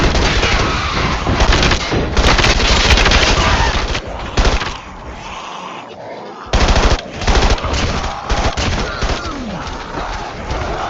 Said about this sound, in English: Is that MG42?